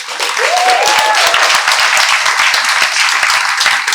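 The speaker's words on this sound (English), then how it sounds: "So those applause are really for everyone that's been involved." Loud, dense applause fills a room at a grassroots community meeting on Oahu's North Shore about protecting Turtle Bay, with a crowd clapping steadily throughout and a brief cheer near the start.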